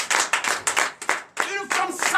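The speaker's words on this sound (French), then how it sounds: "Donnez l'acclamation à Jésus." A congregation at a Benin morning prayer service claps in acclamation: about eight sharp, evenly spaced claps in a quick rhythm, close and loud. Voices chime in briefly near the end.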